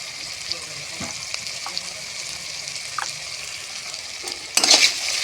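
Turmeric, cumin and chilli powders fry in oil with a soft, steady hiss, a few faint stirring taps, then a brief louder sizzling burst near the end.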